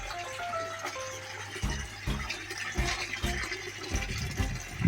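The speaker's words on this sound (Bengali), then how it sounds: "জল কিভাবে নতুন জল ট্যাঙ্কে যাচ্ছে আর ট্যাঙ্ক থেকে পুরনো জল এই আউটলেট থেকে" Water flowing into and draining out of a biofloc fish tank through an outlet, a steady gushing and splashing with irregular surges, moderately close and with no talking.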